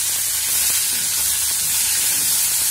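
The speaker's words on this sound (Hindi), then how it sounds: "अच्छे तरीके से भून लेंगे इसको तेल में।" Cluster beans (gawar) fry in hot oil in a pan, a loud, dense, steady sizzling hiss that fills the whole stretch without pause.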